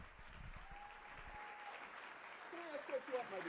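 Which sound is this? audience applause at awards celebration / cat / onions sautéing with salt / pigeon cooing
audience applause at awards celebration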